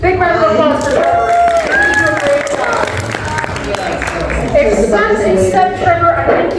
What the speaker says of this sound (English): Big round of applause for Trevor.